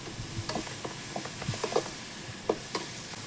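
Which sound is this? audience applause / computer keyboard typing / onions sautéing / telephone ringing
onions sautéing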